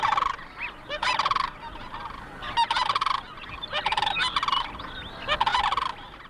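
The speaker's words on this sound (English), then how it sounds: "The battle will only end when the snow geese have left the cranes' territory." Snow geese in North America honk over and over in loud, overlapping bursts, a raucous flock calling nearby with short gaps between the volleys.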